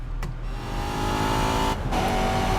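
The red Opel DTM race car in TOCA Race Driver 3 drones with a steady, loud engine note at constant pitch, a couple of brief bursts of other game noise cutting in.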